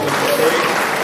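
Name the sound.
round of applause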